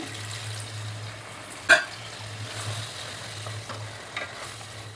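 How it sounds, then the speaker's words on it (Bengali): Chicken pieces for Chicken Changezi sautéed and stirred in a pan with a little water, a faint, steady low sizzle with one sharp utensil clink and a softer knock later. "আমরা আট দশ মিনিট এটা কষিয়ে নেব"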